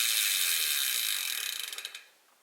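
A Scott Genius 900 Tuned bicycle freehub with the cassette fitted, a fast, smooth ratcheting buzz that slows into distinct clicks and stops, close up and without talk.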